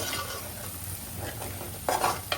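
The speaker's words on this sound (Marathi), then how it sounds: "मसाले पण मस्त सुगंध वास थोडं परतून घ्यायचं बघा" Spices sauté in a pan for an Agri-style fish curry, making a constant close sizzle, with a couple of louder scraping stirs near the end and no voices.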